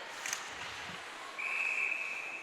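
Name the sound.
referee's whistle during an ice hockey game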